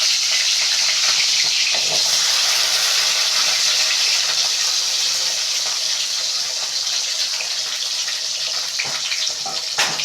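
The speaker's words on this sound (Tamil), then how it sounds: "நம்ம நல்லா இது மாதிரி வதக்கிக்கலாம்" Small sambar onions and fenugreek seeds sauté for fish curry, a loud, dense, continuous sizzle that holds steady throughout, close and without talk.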